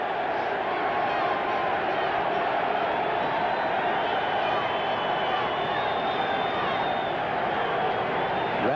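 A sellout crowd of rabid Eagles fans roars steadily at Veterans Stadium during a 1992 NFL game against the New York Giants, a dense, continuous cheer with no breaks.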